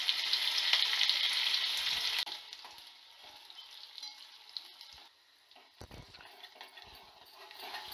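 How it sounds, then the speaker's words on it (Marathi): Chopped onion hits hot oil already tempered with mustard seeds, cumin and curry leaves, giving a loud bright sizzle for about two seconds that settles into a quieter steady crackle with occasional stirring clinks. "फोडणीचा कांदा टाकून घेऊयात."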